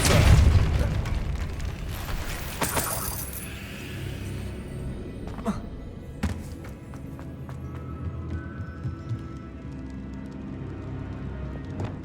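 Repulsor spell blast in Hogwarts Legacy: a loud booming burst at the start fades into rumbling impacts and debris clatter, with scattered thuds afterward.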